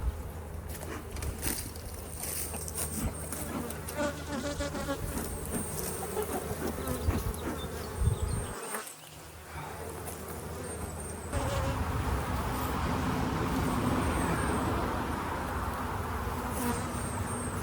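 Honey bees buzz densely around a hive, a continuous close, layered drone with individual bees passing near, the swarm growing slightly louder toward the end.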